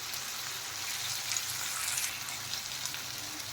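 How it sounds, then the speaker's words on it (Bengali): Spice masala for chole is stir-fried in a pan, giving a loud, continuous close sizzle with faint stirring underneath and no voices. "এখন নেড়ে চেড়ে ভালো করে আমি মশলাটা কষিয়ে নেব।"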